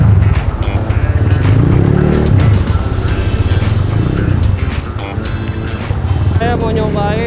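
A Honda ADV 150 scooter bored up to 180cc for touring and commuting, its engine droning loud and close with rising and falling revs, while people talk over it throughout.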